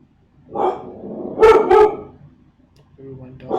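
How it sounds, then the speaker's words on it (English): A pet dog indoors, alerted by something: a soft whine-like yelp, then two loud, close barks in quick succession, and fainter yips trailing off. "Ooh, my dog sees something."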